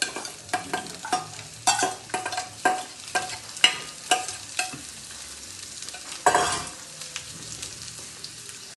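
Coconut pieces and raisins frying in ghee for payasam, a continuous sizzle broken by repeated sharp scraping strokes of a spoon stirring the pan, close and clear with no voices.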